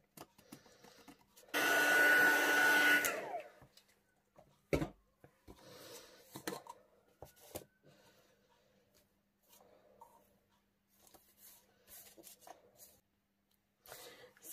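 A heat tool blows on embossing powder on a handmade card, a loud whirring roar lasting under two seconds, followed by quiet tapping and handling sounds.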